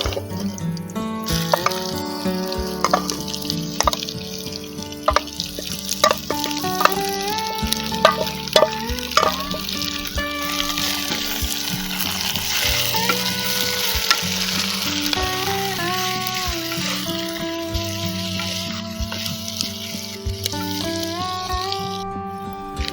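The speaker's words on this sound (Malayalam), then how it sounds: "ഇതിലേക്ക് നമുക്ക് കൂണിട്ട് കൊടുക്കാം" Mushrooms frying with curry leaves in a pan for a Kerala-style roast, a loud steady sizzle with crackling and occasional stirring scrapes throughout.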